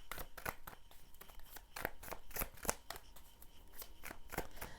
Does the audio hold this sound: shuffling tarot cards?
yes